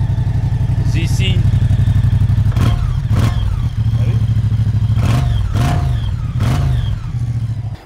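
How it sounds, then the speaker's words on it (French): A Moto Guzzi Mandello V100 S idles loudly nearby with a throbbing, clattering beat and several quick throttle blips, while someone speaks French over the engine. "T'as vu le moteur, il fait clac, clac, clac, clac."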